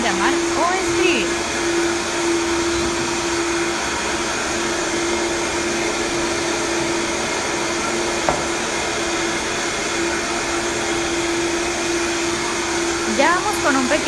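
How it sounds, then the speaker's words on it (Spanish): A blender running steadily to blend an ice cream mixture, a constant loud motor whine with a sustained hum throughout, with brief faint background noises. "Se tiene que licuar por 5 minutos."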